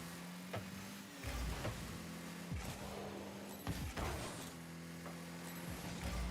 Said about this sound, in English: I hear a car in front of me